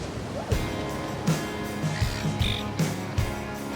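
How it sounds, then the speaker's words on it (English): Ocean waves at a reef break near rocks, a continuous rushing surf with repeated low thumps and splashes, heard close with a boat-like rumble underneath and no talk. "These waves are perfect for working on your takeoffs."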